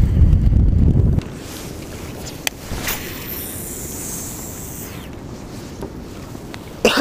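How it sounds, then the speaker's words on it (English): Strong wind buffets the microphone on a lake during muskie fishing from a boat, a loud rumbling roar at first, then steady gusty wind noise with faint water sounds. "This wind is no joke."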